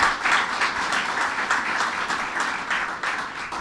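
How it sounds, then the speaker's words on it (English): An audience applauds at a governor's bill-signing event for the LaGuardia AirTrain project: dense, steady clapping from a crowd filling the room, sustained at full volume throughout. "Let's give them a round of applause, please."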